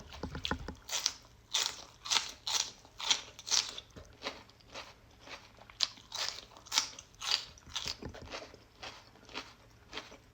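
Crunchy health snack, flavored with avocado, brown rice, soybean, broccoli and kiwi, chewed close up with a steady series of loud crisp bites and crunches, no speech.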